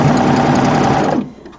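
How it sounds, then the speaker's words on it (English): A serger overlock machine stitches and trims the edges of quilt blocks, giving a steady close mechanical whir for just over a second before stopping abruptly. "The serger will trim off all those little extra threads as you go too."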